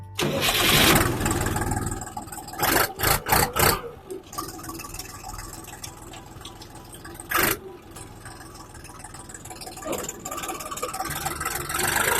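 A KENTAVR 244SX tractor engine starting outdoors in light snow, with loud cranking bursts that catch into a steady mid-pitched running rumble close by, and no talk.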